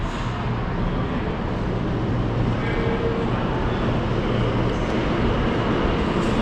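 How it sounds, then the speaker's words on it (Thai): Train rumbling along a railway line below a hillside near Cold Spring, New York, a steady continuous low roar throughout, moderately close and unbroken, with no talk over it. "มีรถไฟมาข้างล่างอยู่แล้ว"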